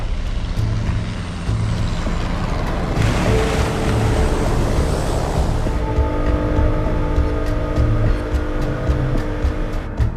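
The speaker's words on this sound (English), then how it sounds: "we're gonna come and land in the water now" A plane comes down onto the water in southern Bangladesh, a steady loud engine drone inside the cabin swelling into a rushing wash of spray and water noise for a few seconds before settling back to the hum.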